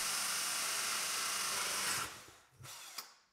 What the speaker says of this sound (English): So I used a hole saw with my drill to punch a hole where the window is.